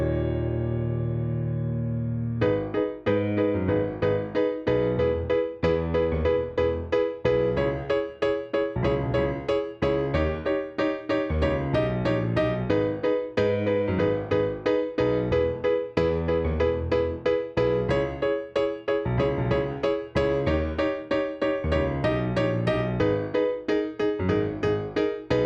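Solo piano plays the intro and pre-chorus of a song, opening on a sustained low chord, then steady rhythmic chords with a melody line on top, close and clear, with no voices.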